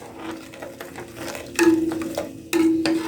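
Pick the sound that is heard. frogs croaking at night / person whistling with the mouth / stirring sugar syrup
stirring sugar syrup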